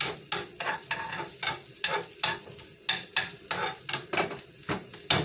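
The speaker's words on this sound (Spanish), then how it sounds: "Mientras tanto se está cocinando mi casamiento." Casamiento, rice and beans, stirred in a hot pan: a rhythmic series of scraping utensil strokes over a steady light sizzle, repeating roughly every half second, close and moderately loud.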